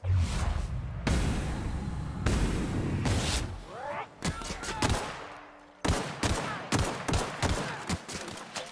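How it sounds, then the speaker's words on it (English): In The Outer Worlds, loud gunfire rains toward the player in bursts of sharp shots and rapid volleys, some echoing with whooshes, separated by short gaps. "Hey, stop shooting me."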